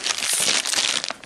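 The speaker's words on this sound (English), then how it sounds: "So let's get the box open and we'll have a look what's going on inside here." Cardboard box holding an Epson TM-m30ii receipt printer being opened, a steady close rustle and crinkle of packaging and cardboard flaps that runs throughout without a break.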